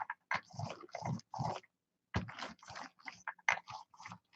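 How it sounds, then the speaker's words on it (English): An old dog on a porch whimpers and whines in a string of short, close, fairly quiet cries broken by brief pauses. "I hear my poor dog crying"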